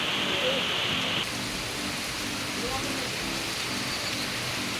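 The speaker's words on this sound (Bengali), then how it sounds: "এই বছর মনে হয় প্রথম এরকম মুষলধারে বৃষ্টি হচ্ছে" A heavy downpour falls steadily outdoors near a tent sheltering a vehicle, a dense, constant rush of rain with no let-up.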